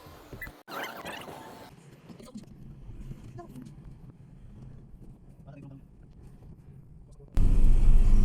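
A Ford Trekker with a WL engine, previously low on power with its check engine light on, is heard from inside the cabin on a road test: a low engine rumble and road noise, then a sudden loud roar near the end.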